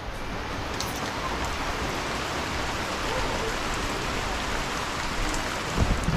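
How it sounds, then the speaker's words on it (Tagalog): Heavy rain pours down outdoors in a dense, steady hiss that lasts the whole stretch, with a few louder drops or knocks near the end. "Bumuhos yung ulan."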